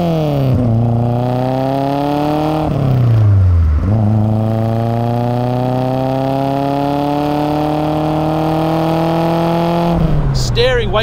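A 1975 Ford Escort RS2000 engine revs hard while driving, loud and close, climbing through the gears with several rising sweeps separated by brief dips at each shift.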